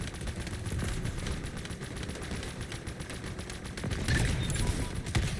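Rapid automatic gunfire in the Halo video game, dense bursts of rattling shots that run continuously and swell louder near the end.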